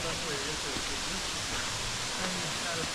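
Waterfall in Clifty Canyon, Sipsey Wilderness, Alabama: a constant broadband rush of falling water, close and steady, with faint voices of hikers murmuring underneath.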